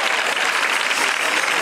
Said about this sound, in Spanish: se merece un fuerte aplauso